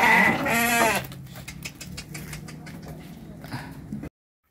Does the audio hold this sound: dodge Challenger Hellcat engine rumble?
no